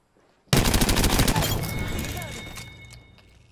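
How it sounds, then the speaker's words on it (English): Apex Legends gunfire, a sudden burst of rapid automatic shots that starts abruptly after a short quiet, loud and dense, then decays over a few seconds into a ringing tail. "I am taking fire, friends."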